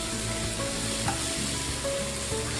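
Tomatoes with chilli, coriander and turmeric powders fry in a pan for red macaroni, giving a loud, dense, continuous sizzle with a few stirring scrapes, close up and unbroken, with no talk.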